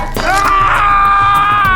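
A man with an open fracture of the lower leg lets out a loud, sustained shriek of pain lasting nearly two seconds, close and strained, with rough noise around it.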